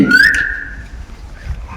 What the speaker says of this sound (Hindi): सीटी मारने का शौक है हो?